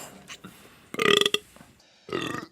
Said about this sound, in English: I never wanted somebody to burp in my face so much.